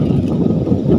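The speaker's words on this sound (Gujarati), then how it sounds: "કારણ કે પવન બહુ ઝાઝો છે એટલે પવન બધું ઉડી જાય એટલે." Strong wind gusting across an outdoor picnic spot, a steady low roaring rumble that buffets the microphone continuously, loud and close throughout with no voices.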